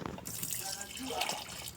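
Water is poured and splashes during farm cleaning work, a continuous trickling and splashing stream heard up close with faint background voices.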